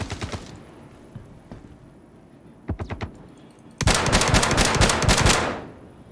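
Automatic weapon fire in the space game Star Citizen: a short opening burst, a few isolated shots, another quick three-round burst, then a loud sustained rapid volley of about a dozen close, sharp shots that tails off.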